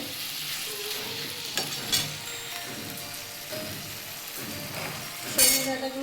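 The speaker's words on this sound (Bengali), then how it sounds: "আমি এটা ভালো করে একটু কষে নেব মশলাটা দিয়ে" Spice masala with vegetables is stir-fried in a pan, giving a steady rain-like sizzle broken by scraping stirs and occasional clinks of the spatula against the pan.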